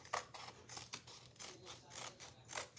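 Scissors cut out a small paper craft figure, a faint, close sequence of short crisp snips and paper rustles in a quick, uneven rhythm.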